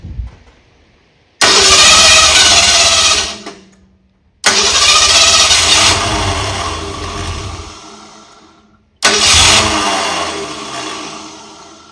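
A 1964 Ford Galaxie engine on a run stand cranks loudly in three separate attempts, each a sustained churning burst of a couple of seconds or more, separated by short silent pauses.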